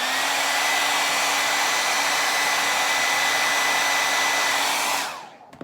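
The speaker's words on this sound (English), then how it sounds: "if I put the blow dryer on this" A hair dryer blows on poured paint, running steadily with a loud, even whine and airy rush, then switches off and winds down near the end.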